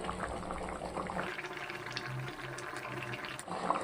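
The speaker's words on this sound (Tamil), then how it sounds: "தேங்காய் பால் சேர்த்து குழம்பு வந்து 3 நிமிஷத்துக்கிட்ட நல்லாவே கொதிச்சிருச்சு" Fish curry with coconut milk at a steady boil, a continuous soft bubbling and simmering close by, with no voices.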